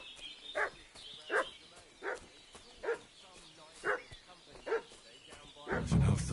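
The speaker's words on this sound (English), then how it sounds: "What's that dog making such a fuss about?" A dog barks in a steady series of about eight sharp, evenly spaced barks at moderate distance over a quiet background, ending in a louder rumbling burst.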